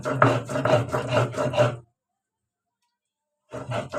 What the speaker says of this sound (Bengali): এগুলো ভালোভাবে বেটে নিব।